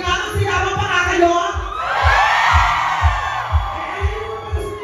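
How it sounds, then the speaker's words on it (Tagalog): A comedy club crowd shouts and cheers loudly, a roar that swells midway over a thumping rhythmic beat from the room's music. "Sige nga, sigawan pa nga kayo!"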